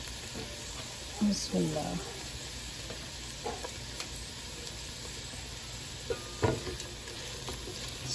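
Chopped capsicum sizzles steadily in a hot pan with coriander, a soft continuous frying hiss broken by occasional scraping stirs of a spatula, while someone speaks briefly.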